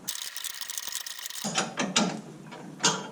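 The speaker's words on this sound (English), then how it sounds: "Turning nuts in a counterclockwise direction" A ratchet wrench clicks rapidly as it turns nuts counterclockwise to loosen the U-bolts on a Chevrolet Silverado during a Rough Country 3.5-inch lift kit install. A fast even ratcheting runs first, then louder, more uneven bursts of clicks follow, close and with no voices.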